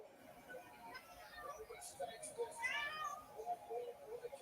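A pet cat meows a few times close by, with drawn-out rising and falling cries, while people talk over a quiet livestream watch party in the background.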